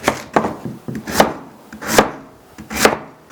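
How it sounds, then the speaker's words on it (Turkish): A knife chops beetroot firmly on a cutting board, about eight distinct thuds in an uneven rhythm, close and clear with no talking. "Öncelikle pancılarımızı doğrayarak başlıyoruz"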